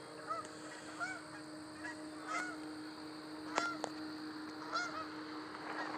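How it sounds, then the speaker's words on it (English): Several geese honk while flying overhead at sunrise, a few scattered calls repeating at a moderate distance over a steady low background hum. "Got a couple of geese flying."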